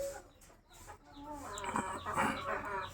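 A Burmese fighting rooster clucks and calls in a farmyard, its voice rising into a louder crowing burst toward the end over steady outdoor background noise.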